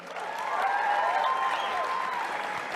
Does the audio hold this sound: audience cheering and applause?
yes